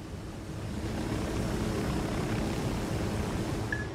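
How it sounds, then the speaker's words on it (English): Cartel supply helicopter in the video game Ghost Recon Wildlands, a steady broadband rotor and engine drone held at constant level throughout, with no speech. "Good eyes on the cartel supply chopper."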